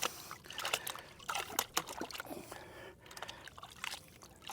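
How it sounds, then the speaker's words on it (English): Water washing gravel and black sand material in a gold pan, soft irregular trickles and sloshes as the pan is swirled back and forth, quiet and close with no talking. "Just let the water, see how that water takes that material off?"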